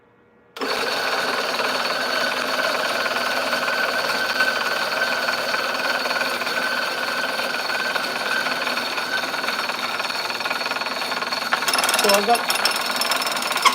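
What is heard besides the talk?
coffee grinder grinding coffee beans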